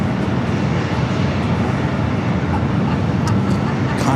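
A Condor Airbus A330neo airliner goes around on the south runway at LAX. Its jet roar is loud and steady, with a faint voice underneath.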